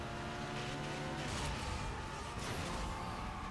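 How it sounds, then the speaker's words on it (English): Car engines roaring and revving in the racing game Burnout Paradise, a dense steady drone with tire squeal and passing rushes, loud and continuous with no talk. "the engine sounds in this game are, like, deceptively good"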